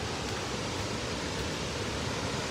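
A continuous, dense roar of heavy water plunging at Taraabu waterfall in Andhra Pradesh, full and close, with no breaks or voices.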